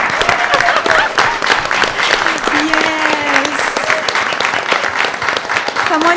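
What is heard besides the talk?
audience applause for inaugural school swim team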